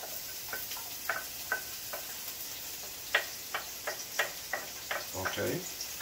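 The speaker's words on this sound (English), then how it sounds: "So small amount of oil is in the pot. Pot is on the stove. Okay. So I put my onion in the pot." An onion sizzles as it fries in a small amount of oil in a pot over a low stovetop flame, with scattered soft crackles and pops against a quiet background hiss.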